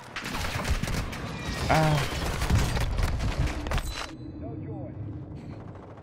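Rapid bursts of automatic gunfire crackle through a Warzone 2 match, dense and loud for about four seconds before dropping off, with a player's brief exclamation mixed in.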